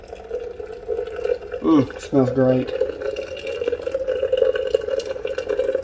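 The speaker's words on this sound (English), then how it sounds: "I'm going to make sure I saturate the entire grounds with water so it makes it even extraction" About 300 grams of hot water is poured over coffee grounds in a French press, a steady close trickle and fill running under a short spoken remark.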